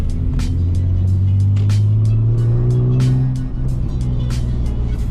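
A car engine idles and revs, dropping in pitch, with several sharp exhaust pops crackling over the steady rumble.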